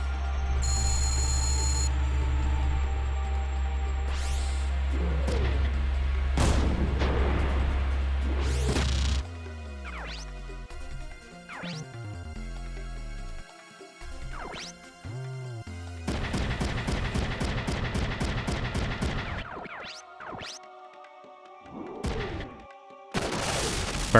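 Mech weapons fire in Front Mission 3, with heavy booms and bursts of rapid synthesized gunfire over a low game drone, punctuated by crashes and electronic tones.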